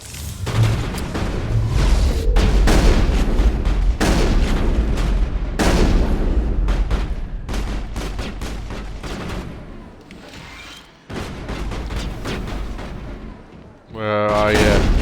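Loud, rapid shotgun blasts in Mass Effect 1 combat, with booming shots repeating close together across most of the stretch, briefly easing before a final burst as a voice speaks over it.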